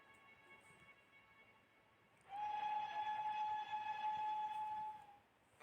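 A steam engine's whistle, Sir Handel's, blows one long steady tone of about three seconds, loud and near, then cuts off.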